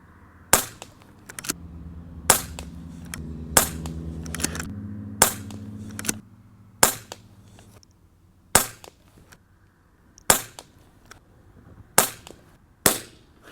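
An Airmaks Katran PCP air rifle in 4.5 mm fires about eleven sharp, separate shots at irregular intervals, each a loud close crack with a low hum between some of them and no talking.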